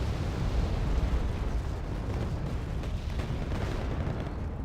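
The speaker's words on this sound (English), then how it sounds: "More artillery being dropped in." Artillery barrages in the war strategy game Wargame: Red Dragon roll as a dense, continuous rumble of overlapping deep blasts, loud and heavy throughout with no distinct gaps, with no talking.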